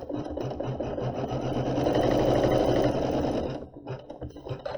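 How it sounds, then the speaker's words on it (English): An embroidery sewing machine stitching appliqué fabric in the hoop, a fast steady mechanical whirr with a rhythmic needle beat that swells slightly and then stops near the end, close and alone. "We're going to place the fabric just over that line and let it stitch."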